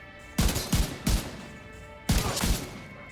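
Gunfire in The Division 2, a tight cluster of three sharp shots followed after a pause by a second burst of two or three, loud and close.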